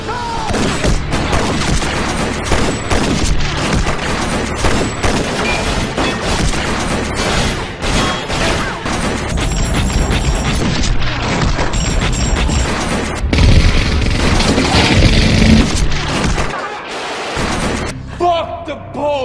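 Gunfire from a television show, dense bursts of shots and booms crashing loudly and continuously with shouting voices mixed in among the chaotic noise.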